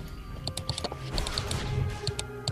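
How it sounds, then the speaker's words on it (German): Clicks and rattles from a computer mouse sitting right beside a camera used as a microphone during League of Legends play, a quick irregular run of sharp ticks over a steady background hiss. "das ist einfach nur meine Maus, die ziemlich genau direkt neben der Kamera liegt, die bei mir gerade als Mikrofon fungiert"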